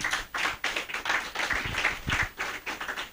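Audience applause at a career clinic event, dense rhythmic clapping from a crowd, close and sustained for a few seconds.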